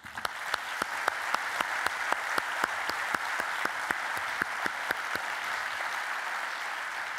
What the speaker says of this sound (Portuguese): para eles, uma grande salva de palmas